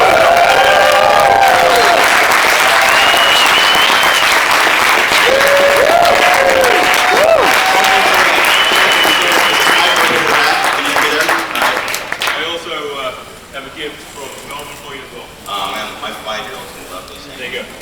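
An audience applauds loudly and steadily for a speaker being welcomed at a Startup Grind event with a guest from Alta Ventures Mexico, the clapping fading toward the end while talk and music carry on underneath.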